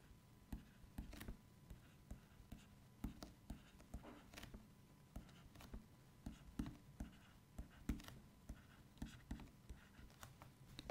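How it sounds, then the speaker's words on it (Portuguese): A number being handwritten, a quiet, close series of pen or pencil scratches and taps in short strokes at an irregular pace, with no talk. "Então, vou escrever aqui o um número."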